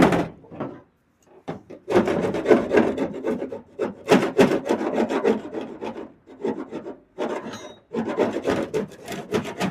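Repeated rough scraping strokes strip old material from the floor pans of a 1969 Camaro, loud close rasping in irregular bursts with short pauses between them and no voices.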